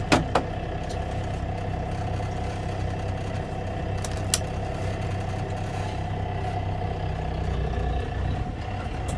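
A truck engine labouring in a steady low drone as it pulls against a locked trailer brake, with a couple of sharp clicks near the start and a faint rattle inside the cab.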